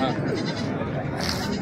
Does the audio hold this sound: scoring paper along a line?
no